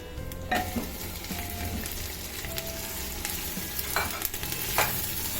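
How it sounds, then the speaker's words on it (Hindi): Minced chicken sizzles steadily with onion, garlic and ginger in a hot clay pot, with occasional scraping and stirring clicks over the constant crackle. "इसको मैं प्याज और लहसुन अदरक के साथ इतना फ्राई करती हूँ"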